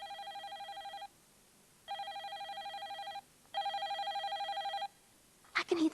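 A magic fairy phone rings in three bright, evenly spaced electronic trills, each about a second long and separated by short pauses, with a brief clattering noise at the end.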